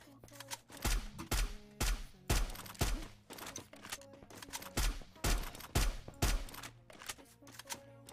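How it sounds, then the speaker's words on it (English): Gunfire from a Free Fire battle royale esports match, with repeated sharp shots in irregular bursts and clusters, fairly loud against a quieter game background with no talk. "That is a headshot coming in from the Brain Dead team."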